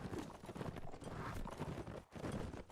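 Horse hooves clip-clopping in Mount & Blade: Warband during a multiplayer tournament match, a rapid galloping patter close up that continues with a brief dip, mixed with faint battle noise.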